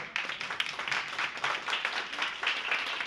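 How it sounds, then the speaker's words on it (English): Audience at a senior center Kwanzaa celebration claps loudly and steadily, a thick continuous wash of many hands with no talk over it. "could you please just clap your hands real loud?"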